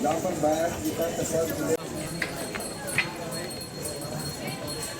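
Horses and mules clop along the Vaishnodevi pilgrimage path, steady hoof steps under busy crowd chatter and voices nearby, with a couple of louder clacks standing out.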